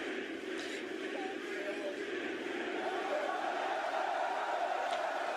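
A big arena crowd at a live wrestling show roars steadily as a wrestler holds his championship belt aloft, a dense sustained cheer filling the space with scattered louder shouts, continuous throughout.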